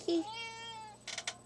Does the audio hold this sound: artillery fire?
no